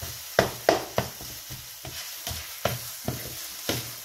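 Minced meat fries in a pan for a meat pie, with soft sizzling broken by a series of sharp, regular scraping stirs roughly every half second, close and fairly quiet, with no talking.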